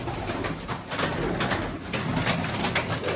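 Domestic fancy pigeons of long-faced English and Mohican breeds, including a white-eyed red-and-white bird, coo steadily and close by over a constant rushing background noise throughout.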